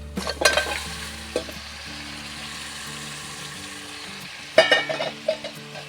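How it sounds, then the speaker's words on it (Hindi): Pieces of beef paya frying in masala in a pan, a close sizzle with bursts of louder crackle and spoon-stirring scrapes at the start and again near the end; no one speaks. "अब मैं इसमें डालती हूँ ये पाए की बोटियाँ।"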